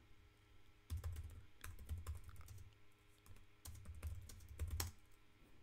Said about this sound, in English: You probably can hear me typing.